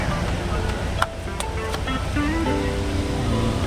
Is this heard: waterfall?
yes